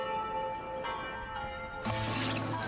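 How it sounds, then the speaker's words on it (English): A cathedral bell in Puebla, Mexico, rung at first light, hums with a sustained metallic tone, then a fresh strike brings a louder, brighter clang near the end. "ring the cathedral bell at first light."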